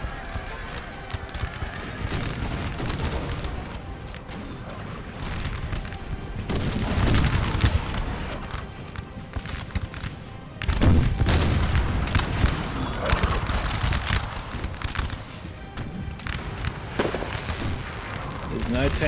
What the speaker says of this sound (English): the Russians clearly are relying on their artillery.